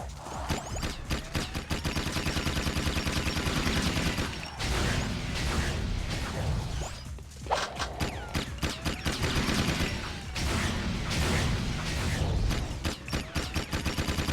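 Rapid weapon fire in the Jak II video game, dense bursts of repeated shots with mechanical clatter running almost continuously, briefly dropping out twice.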